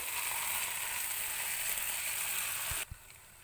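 Cashew paste is stirred into spices frying in oil, giving a loud continuous sizzle and hiss that cuts off abruptly near the end, followed by a couple of soft spoon knocks.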